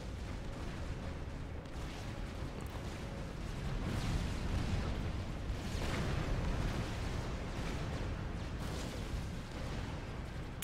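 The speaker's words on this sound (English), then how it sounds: "sprays that napalm at high velocity towards some unsuspecting tank commanders." In a Supreme Commander: Forged Alliance match, Janus napalm bombing sets off a continuous rumbling roar of explosions that swells toward the middle, dense and loud throughout.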